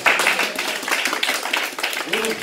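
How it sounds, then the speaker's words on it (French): A church congregation at a Sunday service claps to acclaim Jesus, a dense, continuous patter of many hands, loud and full, with voices mixed in. "Acclame Jésus."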